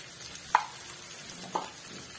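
Chicken curry with salt, turmeric and chili powder stirred in a pan: two soft, brief spoon scrapes over a faint sizzle.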